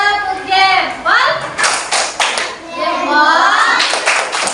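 A primary school class performs a rhythmic thumb-clap chant: children's voices chanting in unison, punctuated by bursts of group clapping, close and loud.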